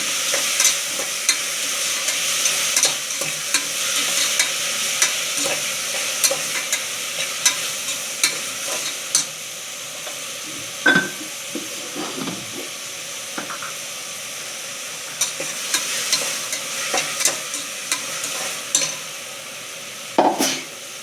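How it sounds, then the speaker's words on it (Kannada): Onion and tomato with a little salt fry in a pan for chicken fry, a steady close sizzle broken by repeated scraping stirs and sharp spatula knocks against the pan. "ಈರುಳ್ಳಿ ಟೊಮೊಟೊ ಫ್ರೈ ಆಗಲು ಸ್ವಲ್ಪ ಉಪ್ಪು ಹಾಕಿ ಐದು ನಿಮಿಷ ಬಾಡಿಸಿ"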